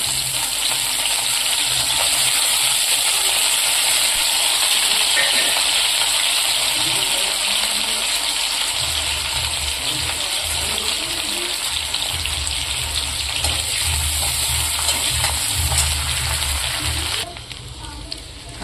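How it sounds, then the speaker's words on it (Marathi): Bombil, or Bombay duck fish, fry in hot oil with a strong, continuous sizzle and bubbling hiss, with a low voice occasionally underneath, before the frying briefly quietens near the end. "असे बोंबील चांगले लालसर एकदम लालसर रांगावर तळून घेतले"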